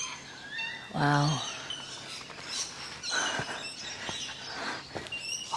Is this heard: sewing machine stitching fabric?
no